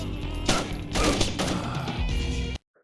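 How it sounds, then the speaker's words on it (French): Dense gunfire from the Splinter Cell video game, a steady loud barrage of shots and mechanical clatter lasting over two seconds before cutting off abruptly into silence. "Les coups de feu."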